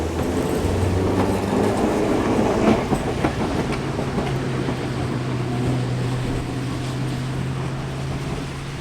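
Ex-Melbourne W2 class tram running at MOTAT, a loud continuous rumble with a low motor hum and scattered wheel clicks and rattles from close aboard.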